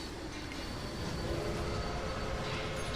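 Trains run in the railway management game Railway Empire, giving a continuous rumbling clatter of wheels on track with a faint high squeal above it. The sound stays fairly steady for the whole short stretch.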